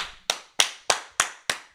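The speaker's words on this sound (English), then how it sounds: "Let's go ahead and clap it up really quick." Six sharp, evenly spaced claps, about three tenths of a second apart, each one crisp and close with a quick decay, in a steady rhythm with no talking.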